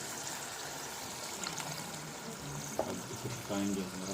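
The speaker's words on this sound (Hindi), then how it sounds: "थोड़ा सा इसमें पानी ऐड करेंगे" A little water is poured into chicken curry cooking in a pot, a soft continuous trickling over the sizzle of the masala, with a brief clink near the end.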